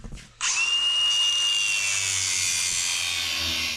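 A power tool cuts the corners off a small square metal piece to round it for a wood chipper repair. After a brief quiet moment it starts abruptly into a loud, steady, high grinding whine that continues close up.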